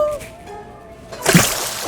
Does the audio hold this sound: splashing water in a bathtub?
yes